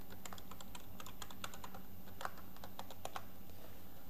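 Password typed on a computer keyboard: a quick, irregular run of crisp key clicks, close and fairly clear over a low steady hum, with no voices.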